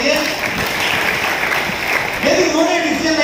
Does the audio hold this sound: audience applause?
yes